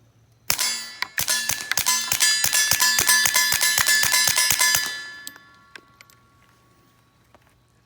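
A suppressed .22 rifle with a Silencerco Sparrow fires about a dozen quick shots at an outdoor range, each hit ringing off a steel target with a sharp metallic ding, then a few scattered faint taps.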